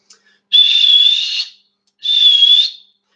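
Two loud, piercing mouth whistles, each held steady for about a second, with a short pause between them.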